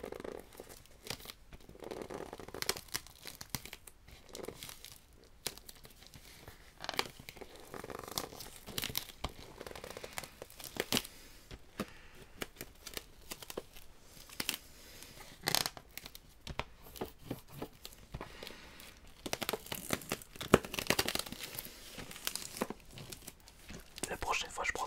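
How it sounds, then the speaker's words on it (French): Plastic wrap is torn and crinkled off a Skyrim Premium Edition collector box, close, quiet and continuous with sharp rips and crackles throughout, and soft whispered speech in between. "On va enlever le petit plastique qui sert pas à grand chose."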